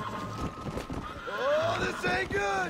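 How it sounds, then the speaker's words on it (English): Video game horses give loud, close neighs over rapid clip-clopping hooves, with someone talking briefly alongside. "Punk ass motherfucking horses."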